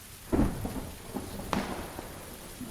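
Thunder rolls through a rainy Erangel map in PUBG, a sharp crack near the start followed by a second clap and low rumbling over steady rain hiss.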